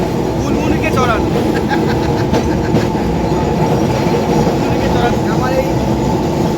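A city tram rolls along its street track with a loud, continuous rumble and rattling of wheels and carriage, while people talk over the noise.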